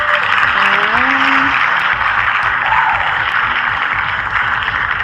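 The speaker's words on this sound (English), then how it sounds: "I love the cheering." A crowd at an outdoor giveaway cheers and applauds in a dense, continuous wash of claps and whoops, with a few higher shouts rising out of it near the start.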